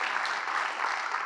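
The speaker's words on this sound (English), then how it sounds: "let's give everybody a round of applause for getting these projects across the finish line" An audience at a Long Beach civic event applauds, a dense, even wash of many hands clapping at moderate distance, sustained through the whole brief moment with no voices.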